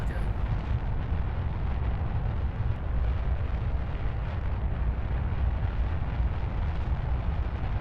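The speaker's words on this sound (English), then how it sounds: "it wouldn't hurt maybe to throttle up this middle rocket." Rocket engines roar in Kerbal Space Program as a heavy craft lifts off, a steady loud rushing rumble without pause, with no talk over it.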